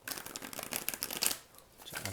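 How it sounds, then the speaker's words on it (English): A tarot deck being shuffled by hand, with a steady run of soft riffling and flicking card sounds close up, easing off toward the end. "I'll go ahead and start shuffling the deck"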